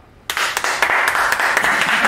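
Audience bursts into applause welcoming two guests on a podcast, clapping starting abruptly and continuing loud and steady.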